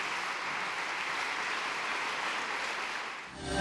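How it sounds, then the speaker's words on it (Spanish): A church congregation claps together as an offering of applause to the Lord, producing a steady, dense wash of hand claps that holds evenly throughout and dips briefly near the end, with no voices over it. "¿Puede usted brindar una ofrenda de palmas al Señor?"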